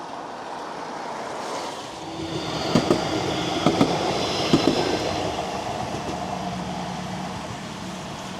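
A Blackpool illuminated tram running along its track, a continuous loud rolling rumble with a few rhythmic clickety-clack knocks from the wheels over rail joints in the middle.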